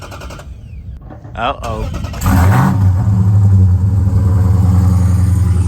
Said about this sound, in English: Warm start on the SuperBee.